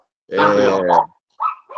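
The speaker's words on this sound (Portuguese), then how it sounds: "Desculpa os cachorros aqui." Dogs at home barking: one drawn-out, strained bark followed by two short, sharp yaps, close and loud against a quiet background.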